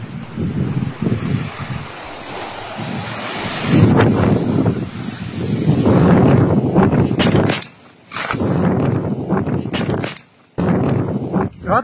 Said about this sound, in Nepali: हावाहुरी सहित पानी पर्न लागेको छ यति बेला